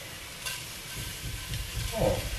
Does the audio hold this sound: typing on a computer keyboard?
no